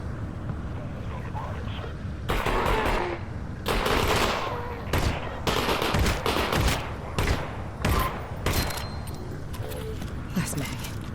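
Gunfire in the VR game Half-Life: Alyx, with loud repeated bursts of automatic shots in clustered volleys over roughly eight seconds, a player talking in between.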